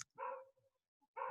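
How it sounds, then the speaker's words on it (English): A dog barks in the background, a couple of loud, close woofs with a gap between them, and no talk in between. "Hopefully, the barking isn't disturbing you."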